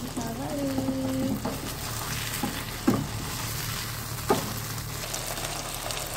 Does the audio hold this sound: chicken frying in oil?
yes